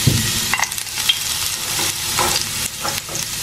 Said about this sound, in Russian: Сейчас, смотрите, бросаю чесночок в масло.